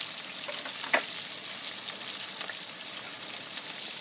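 Onions frying lightly in a pan for chicken keema karahi, a soft continuous sizzle with faint crackles and one brief utensil clink, quiet and steady with no voices.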